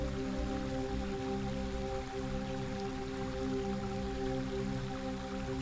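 Steady rushing water from a waterfall, a continuous broadband wash that holds level throughout with a low tonal hum layered beneath, no voices.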